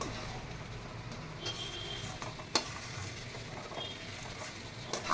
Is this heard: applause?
no